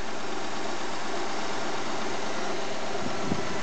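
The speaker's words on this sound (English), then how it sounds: "I'll give this engine a good go. Oh, she's warmed up now." A warmed-up car engine idles steadily with a low, even mechanical hum, close and continuous, with a slight surge near the end.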